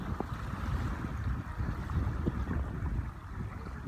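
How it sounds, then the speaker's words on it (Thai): Wind blowing outdoors near water, a steady low rumbling buffet against the microphone with faint watery wash underneath, continuous and fairly quiet, with no talk. "นี่เนาะลมพัดก็สิประมาณนี้แหละ"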